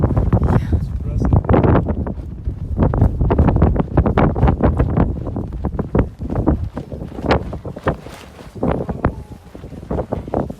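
Strong wind blasts from an avalanche at Gasherbrum II buffet the microphone in loud, gusty rumbling bursts throughout, with people speaking over the roar.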